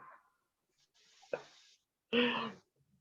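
A person with COVID-19 coughing indoors, a couple of short rough coughs with a throat-clearing sound in between, fairly close and quiet against silence.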